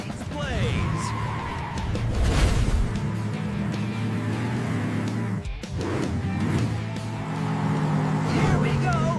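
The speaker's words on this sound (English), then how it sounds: "We're driving on the wall!" Cartoon monster truck driving up and around a curved gravity wall, engine roar and revving with skidding tire sounds, loud and close, under excited shouting voices and music.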